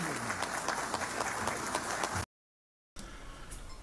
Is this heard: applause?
yes